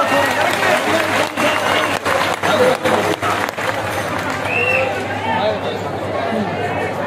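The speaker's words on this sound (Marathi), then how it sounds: "जोरदार टाळ्या हो द्यायच्या टाळ्यावर" A crowd at a Sant Bankatswami Maharaj death-anniversary gathering in Neknur claps in a loud, choppy burst, then the applause gives way to a steady murmur of chatter and crowd noise.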